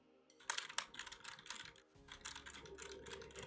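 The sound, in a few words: computer keyboard clicks picked up by an Elgato Wave 3 microphone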